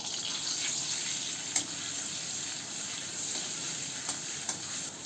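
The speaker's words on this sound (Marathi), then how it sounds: "मिरची, लसूण, आलं छान परतून झालं" Chili, garlic and ginger frying in hot ghee make a steady, close, bright sizzle that runs throughout, with a few sharp pops and crackles.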